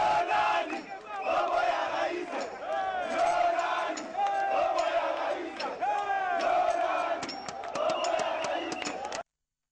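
A large outdoor crowd acclaims a departing head of state with loud shouts, cheers and chanting voices that swell and surge for several seconds before cutting off.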